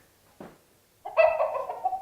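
A rooster calls close by: one short clucking burst, then a loud, drawn-out crow that lasts about a second, with no other sound around it.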